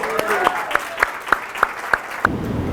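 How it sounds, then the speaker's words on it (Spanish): Steady, evenly spaced clapping, around eight sharp claps in a row, with a voice faintly underneath. "Un aplauso para Valentina, ¿no?"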